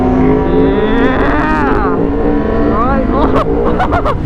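Yamaha R1 1000cc motorcycle shifting up into second and accelerating, loud steady engine roar with rising and falling pitch sweeps as gears change, continuous throughout with talk over it.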